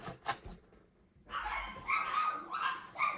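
A dog barks and yips several times in quick, uneven bursts, moderately close but fairly quiet, with no talk over it.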